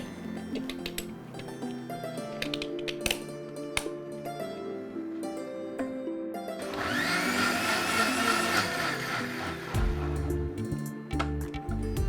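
A blender whirs through a millet drink with ice cubes, a rising grinding roar in the middle over steady kitchen mixing noise, with scattered clinks and no talking.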